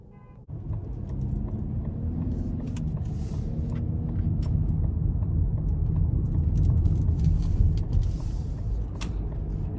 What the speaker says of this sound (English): we're gonna go ahead and take this 2021 Lincoln Corsair Reserve out on the road for a test drive